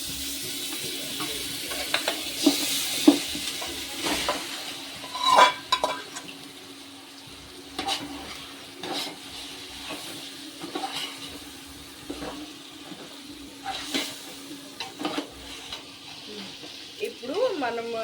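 Marinated chicken for chicken biryani goes into a hot pan and sizzles softly, with scattered stirring scrapes and clinks of utensils against the pan over a quiet, steady frying hiss.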